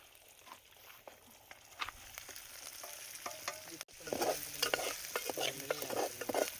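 A spoon stirs paneer curry as it fries in a pan, with scraping strokes and soft sizzling that grow louder and busier in the second half, close by and with no one talking.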